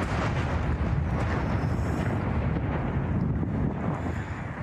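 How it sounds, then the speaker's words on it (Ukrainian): Air defense missiles firing and bursting over Sevastopol, a heavy rumbling, blast-like roar that stays loud and sustained, mixed with wind buffeting on the microphone and no talking. "Цей звук, я думаю, що це ППО."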